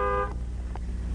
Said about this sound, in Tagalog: Sino kaya yung bumubusina?